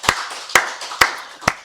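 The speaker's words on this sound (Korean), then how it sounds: "우리 박수를 하나님께 영광 돌리겠습니다" A church congregation at a Wednesday worship service claps in unison, four loud, evenly spaced claps about half a second apart, close and with no talking.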